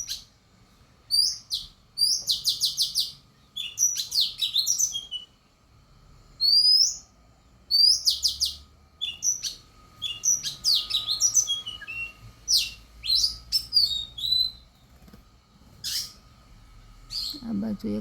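Grey myna-like birds chirp and call repeatedly in bursts, fairly close and clear, with short bright calls spread across the stretch and a low rumble of background noise beneath.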